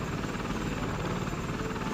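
The Joker's helicopter in the Lego Batman video game, a dense, constant rotor and engine roar held at steady loudness throughout, with no voices.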